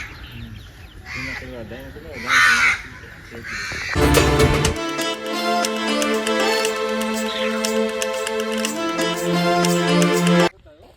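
Birds call from their nests in a zoo aviary at Indroda Park, Gandhinagar. Crow-like caws come through under a speaking voice, and loud music takes over for most of the second half.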